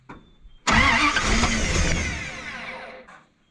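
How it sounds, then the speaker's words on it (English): A dump truck engine is cranked over with the carburetor fuel line removed, giving a loud, steady cranking roar that runs for about two and a half seconds and then cuts off. "I'm gonna crank it over real fast."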